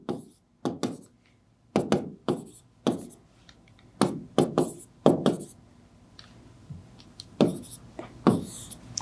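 Chalk or marker strokes on a classroom board while writing out a matrix, coming in short scratchy bursts and taps separated by pauses, close by and fairly loud.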